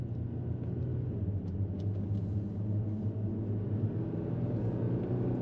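A truck engine with an Ultimate9 EVCX throttle controller set to Ultimate 9 mode rumbles steadily up close, a deep, continuous low drone that holds constant without clear rev peaks, with no talking.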